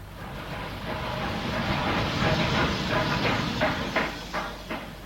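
Steady rumble and hiss of a steam-era train at a railway station in a radio drama, continuous and fairly loud with faint rhythmic clicks toward the end.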